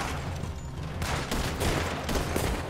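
Rapid gunfire in a horse-riding Western video game, a burst of several close, sharp shots in quick succession, loud and dense with no talking over it.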